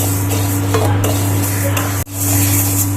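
Pointed gourd (potol) frying in a pan gives a steady, close sizzle with a constant low hum beneath it and one brief dip near the end.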